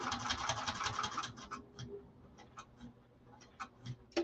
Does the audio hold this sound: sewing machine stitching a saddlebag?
yes